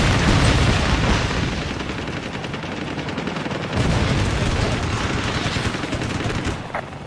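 Aircraft cannon fire in the video game Ace Combat: Assault Horizon during urban air combat: dense, rapid bursts of loud gunfire and booming impacts rattle on for several seconds, briefly dipping and then resuming.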